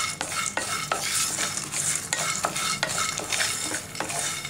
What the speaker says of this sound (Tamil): இப்போ நம்ம வறுத்துக்கலாம்.